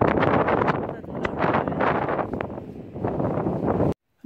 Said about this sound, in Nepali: हावा चलेको छ, एकदमै जाडो पनि जाडो छ।